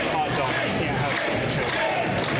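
Live crowd at a Ryse Wrestling 5th Anniversary match between Tyler Klein and Chase Oliver, a steady wash of cheering and shouting that rallies behind Chase Oliver, dense and sustained with talk mixed in.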